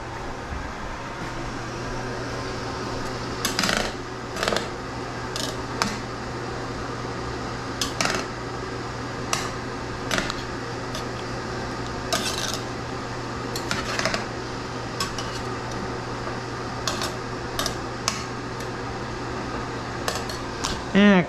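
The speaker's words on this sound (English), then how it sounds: "Stir and simmer the mixture until it thickens and liquid no longer pools on the bottom of the skillet" Utensil scrapes and clinks against a skillet as a thickening black bean nacho mixture is stirred and simmered, with a steady hum of a fan or vent running underneath and brief sharper scraping bursts throughout.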